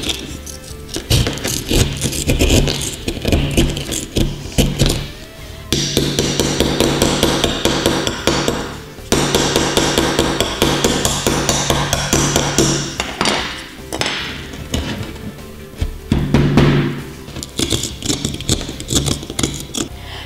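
Real metal hammer and nails in an archaeology dig toy kit, a fast series of sharp close-up strikes in irregular bursts with rattling in between and brief pauses.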